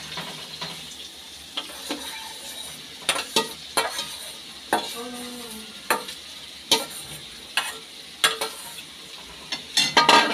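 Paneer and grated potato frying in a pan of cooked spice paste, a low steady sizzle broken by repeated sharp spatula knocks and scrapes against the pan, with no talking.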